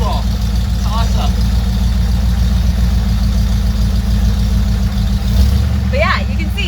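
Carbureted van engine with a three-on-the-tree manual gearbox idling steadily close by, a low continuous rumble under wind noise, with a little talk over it.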